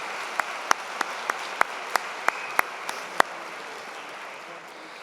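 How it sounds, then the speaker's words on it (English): Large-hall applause at a university convocation ceremony, dense clapping from many people punctuated by regularly spaced sharp, close claps, gradually thinning and fading toward the end. "One more big round of applause,"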